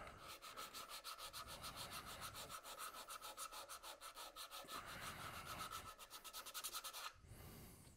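Continuous rhythmic rasping of sandpaper held by hand against walnut spinning on a lathe, steady and close, with a brief change in texture just before the end.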